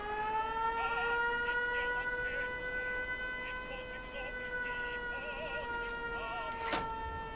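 A settlement siren in the Fallout 4 Commonwealth video game wails in a steady, sustained tone, holding its pitch with slight swells, while a person talks quietly over it.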